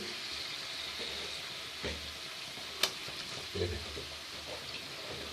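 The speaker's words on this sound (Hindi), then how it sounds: "ये 3 kg मेरा चिकन है। इसको हमने अच्छी तरह जो है ना इसको फ्राई करना है।" Three kilograms of chicken frying in a pot for a shorba, a steady sizzle throughout with a few louder spatters and stirring knocks, close by and with no talk.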